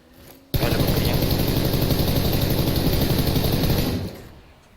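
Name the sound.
motorcycle engine in PUBG video game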